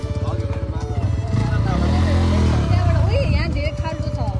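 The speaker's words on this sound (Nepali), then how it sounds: "चाबी नदिकन स्टार्ट हुन्छ बाइक" A motorcycle started without a key runs with a steady engine rumble that swells in the middle, under continuous talking.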